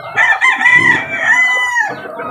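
An Asil rooster crows loudly and close by, one long strained call that rises and trails off, with faint clucking beneath.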